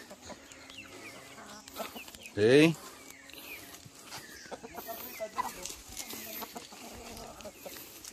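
Chickens clucking nearby, with one loud squawk in the middle, while a person speaks a short word.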